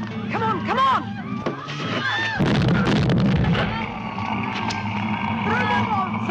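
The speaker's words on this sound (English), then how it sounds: "Start throwing the gas bombs." Gas bombs go off in a 1976 adventure-comedy film, a rumbling blast and crackle that swells midway through the scene and sits under constant shouting, whistling tones and movie score.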